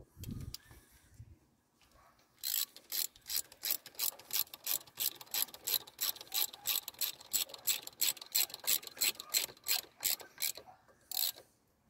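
A ratchet wrench tightens bolts while a cam follower is fitted on a Mk2 Audi TT engine, a rapid run of close, crisp metallic clicks in steady bursts after a short pause, with no talking.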